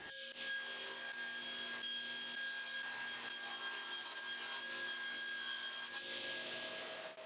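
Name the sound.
table saw cutting a sheet of plywood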